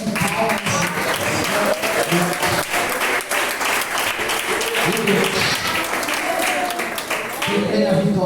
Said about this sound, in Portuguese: Exalte a Jesus com palmas.